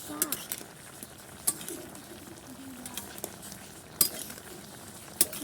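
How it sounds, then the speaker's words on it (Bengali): A utensil stirs food in a cooking pot that has just begun to boil, giving a few sharp metallic clinks spaced seconds apart over a quiet, muffled background. "এখন নাড়া দিব।"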